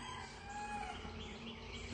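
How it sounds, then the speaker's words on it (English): A rooster crows somewhere in the distance at sunrise, its drawn-out call faint over steady outdoor background noise. "we got the rooster over there making his noise."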